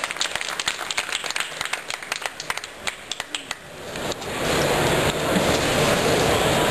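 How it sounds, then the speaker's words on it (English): Audience at a latte art barista competition claps in scattered bursts, then swells into sustained, dense applause with cheering, loud and close. "give a round of applause"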